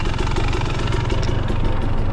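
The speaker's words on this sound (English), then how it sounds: "You can hear it just lugging about perfectly." A 2023 Husqvarna TX300 two-stroke motorcycle engine lugs at low idle with the clutch pulled in and no throttle, a steady, loud, close chugging rumble with a rapid uneven pulse throughout.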